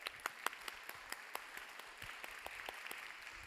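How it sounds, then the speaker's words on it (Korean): Audience applause at a Sunday young adults' church worship service as an engaged couple is welcomed forward, steady scattered clapping at moderate distance, some claps standing out near the start. "박수로 환영하겠습니다"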